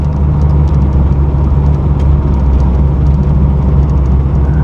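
A 500-horsepower 1987 Chevy Monte Carlo SS rumbles along while driving, its engine a loud, deep, steady drone heard from inside the car without a break.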